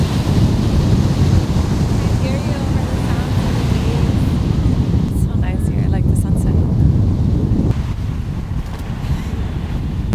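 Ocean waves and wind on a Santa Barbara beach, a loud continuous roar of surf with heavy wind buffeting, a voice faintly audible at moments.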